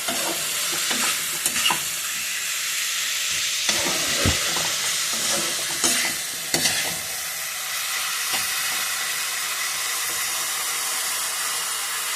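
Capsicum fries in a pan for a chilli fish dish, giving a steady, close sizzle with a few sharp clatters from stirring scattered throughout.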